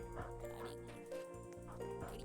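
A dog barks repeatedly in a video game, sharp yelps and whimpers rising over a steady layer of busy game music and effects.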